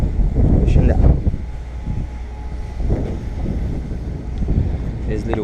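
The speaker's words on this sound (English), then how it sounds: "It's a little windy." Gusty wind buffets the microphone outdoors during a windshield install on a 2016 Porsche 911 Turbo, a loud low rumble rising and falling, with brief bits of talk.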